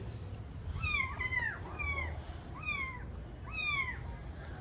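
Three young kittens, found hidden in a house, mew repeatedly in short, high cries, close and fairly soft, some calls overlapping.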